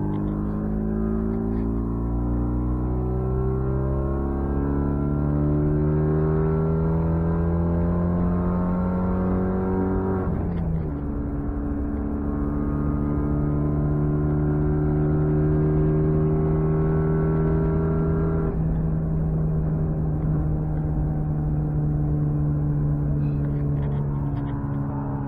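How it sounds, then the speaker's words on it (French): A turbocharged car accelerates gently in fourth gear on a flat road. From inside the cabin, a loud, steady engine drone slowly climbs in pitch, dips briefly twice as the throttle eases, then keeps rising smoothly. "Je vais me mettre en quatrième. Là on est sur du plat et je vais accélérer mais tout doucement"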